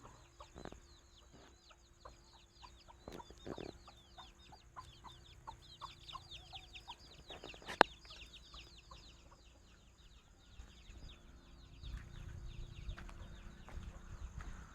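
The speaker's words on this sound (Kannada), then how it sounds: "ಕೋಳಿಗಳು" Chickens cluck and chirp intermittently at a distance in a quiet outdoor setting, with a single sharp knock partway through and low rustling later.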